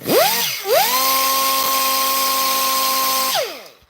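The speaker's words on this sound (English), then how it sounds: "This is just a wee demonstration of sanding this part." A high, steady whine of a small rotary power tool sanding a 3D-printed part, running continuously for a few seconds, spinning up at the start and winding down at the end.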